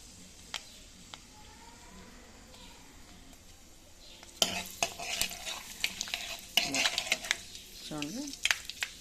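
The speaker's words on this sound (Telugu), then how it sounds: "కాసిన్ని ఎక్కువ మెంతులు అంటే ఒక స్పూన్లు వేసుకొని సిమ్లోనే మంచి రంగు వచ్చే వరకు వేయించుకోవాలి." Fenugreek seeds frying in hot oil in a pan on low heat, a faint quiet sizzle that grows busier midway with spoon stirring and clinks, a brief voice sound near the end.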